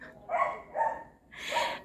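A dog barks three times in quick succession, nearby and moderately loud, with a slight pause before the last, sharper bark.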